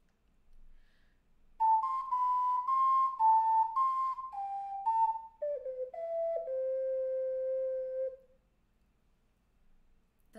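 An ocarina plays a section of a melody, a sequence of clear, pure whistling notes stepping down in pitch, solo and close, with the last note held long before silence.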